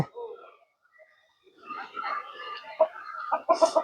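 Crested chickens cluck in short bursts with a sharp, higher call near the end, mixed with faint background voices and farmyard noise.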